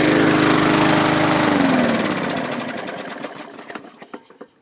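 A Craftsman or Toro recycler lawn mower engine runs with a rapid buzzing putter, then sputters and slows as it dies out, the firing turning into separate fading pops before stopping.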